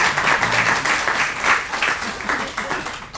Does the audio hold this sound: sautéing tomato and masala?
no